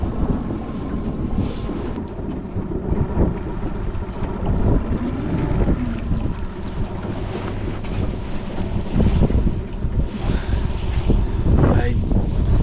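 Steady wind roars and buffets across the microphone in gusts while fishing for perch on Lake Cascade, over a constant low rumble like a boat motor, with water sloshing beneath.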